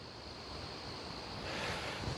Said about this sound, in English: So there is a large amount of wind picking up now